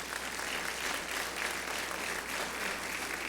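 Steady applause from a large church congregation, a dense wash of clapping that stays even from start to finish.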